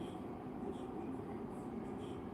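An LRT light rail train in Malaysia passes as a faint, steady rumble, distant and continuous throughout.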